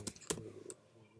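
Keystrokes on a computer keyboard during Docker setup work, a few distinct clicks in a short close burst, with quieter tapping trailing off.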